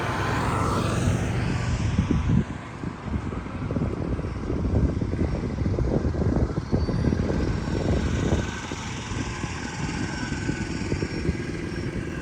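A Cessna 180 airplane at the Oshkosh airshow, its piston engine droning and rumbling loudly and steadily nearby, rising slightly at first and then holding at a strong, even roar.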